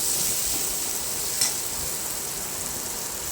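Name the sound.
water added to hot fried spice paste, sizzling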